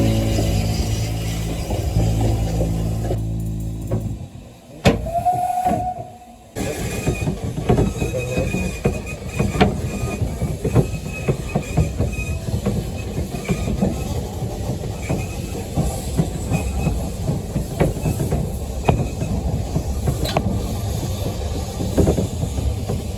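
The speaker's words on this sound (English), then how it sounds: "The engine hauling the train is James Spooner, specifically James Spooner 2." A passenger train hauled by the locomotive James Spooner 2, completed in 2023, rumbles steadily close by. Wheels squeal on the rails, rhythmic clickety-clack sounds come through, and a brief hiss breaks in partway through.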